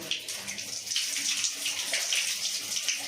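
Water running steadily from a freshly cleaned, previously blocked tap, a close, hissing splash without interruption.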